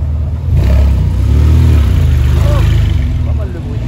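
Loud low engine rumble from a Porsche 997 sports car revving up close while out supercar spotting, swelling and then easing off, with a voice talking over it.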